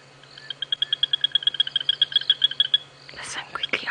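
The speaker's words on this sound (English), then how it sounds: "but this is a Tandy's frog, a Tandy sand frog." A Tandy's sand frog calls at night in a rapid, even series of about twenty sharp high clicks. The calls are close and clear over a quiet background, and whispered voices follow at the end.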